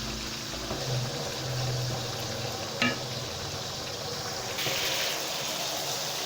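Garlic sauce with one red and one green chili pepper sautéing in a pan, a steady soft sizzle with a brief sharper crackle partway through, fairly quiet and uninterrupted.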